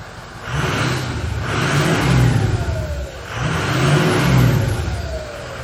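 A 6.0 Powerstroke diesel truck engine, from a rolled-over truck that sat for over 12 years, runs close by and revs twice, rising and falling in two broad swells over a steady rumbling idle.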